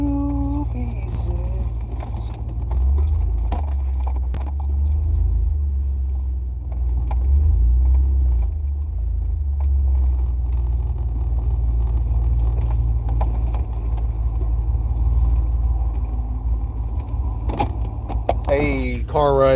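Keys jangle inside a moving car, loud clinking bursts at the start and end over a steady low engine and road rumble, with a voice talking in between.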